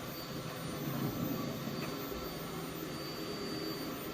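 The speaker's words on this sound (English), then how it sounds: "I hear a helicopter in the background though." A helicopter drones faintly and steadily in the background, a continuous distant rumble with no voices over it.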